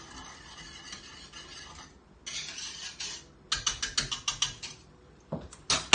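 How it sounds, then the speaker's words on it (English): Whisking ingredients in a bowl while cooking at home, a rapid scraping, clinking rhythm of a whisk against the bowl in uneven bursts, close and moderately loud with pauses between rounds. "I'm going to whisk this again."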